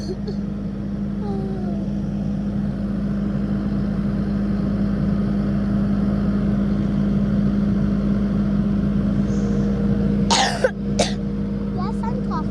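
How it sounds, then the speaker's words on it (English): A few sharp coughs and throat clearing close by near the end, over a steady low engine hum. "I'm coughing because I'm sick."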